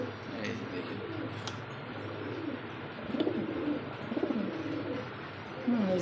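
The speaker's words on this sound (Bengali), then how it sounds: "প্রত্যেকটা কবুতর ভাই নর ডাকে" Male pigeons in a cage, among Lahori, satin and Bombay breeds, give repeated soft, rolling coos up close, with faint talk in the background.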